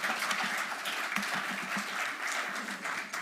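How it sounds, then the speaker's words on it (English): A seminar audience breaks into applause, a dense, steady patter of many hands clapping at moderate volume for several seconds. "I told you it was my clap"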